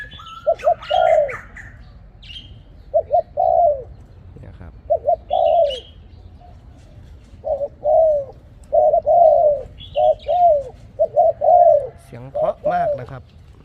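A dove coos in repeated short, soft phrases with pauses between, close and clear over a low background hum, with faint chirps and a brief voice.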